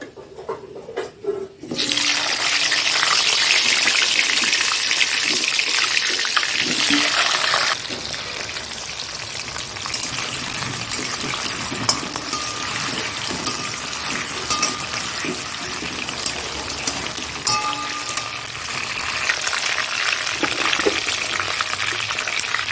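Potatoes going into hot oil, followed by a loud, steady hissing sizzle that continues at near-constant strength, with occasional small clicks and clatters from the pan.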